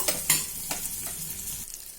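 Ginger, salt and green chili paste fries in a pan with a steady close sizzle, scraped and stirred in a few sharp strokes before the frying noise thins out near the end.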